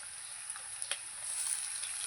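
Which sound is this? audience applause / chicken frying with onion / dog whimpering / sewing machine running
chicken frying with onion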